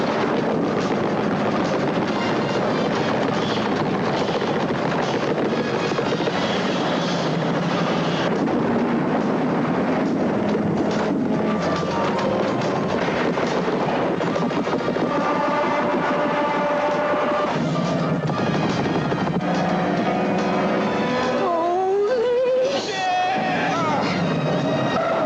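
A movie car chase on Chicago's elevated L train tracks, with roaring engines, rumbling rail noise and dense action-score sound layered continuously under talk, loud and busy throughout with a sweeping rising tone near the end.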